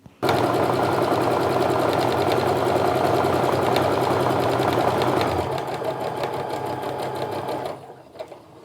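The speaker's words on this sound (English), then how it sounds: "I'm just going to sew to the top and the bottom" Domestic sewing machine stitching quilt block seams, a steady close mechanical whirr running continuously for most of the stretch, easing slightly in pitch partway through before stopping near the end.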